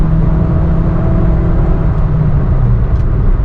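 A Toyota Altis 1.8 engine held at full throttle, a loud, steady droning roar recorded close up, without clear rises or falls in pitch and with no talking.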